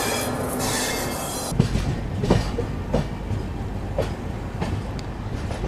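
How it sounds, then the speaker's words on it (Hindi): An Indian Railways train pulls into a station with a steady rolling rumble. Loud, regular wheel clicks over the rail joints cut through the rumble, along with faint squeals. "बिल्कुल पीछे पीछे ट्रेन आ रही है ये।"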